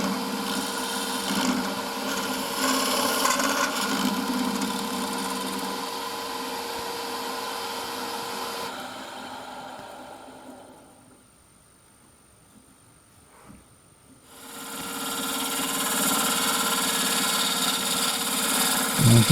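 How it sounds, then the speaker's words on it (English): A scraper cuts into spalted hazel wood spinning on a lathe, a steady whirring hum with a scraping edge that drops away to near quiet midway before the lathe noise resumes. "I'm just using the square and scraper just to size out the hole for the lid tenon to fit in."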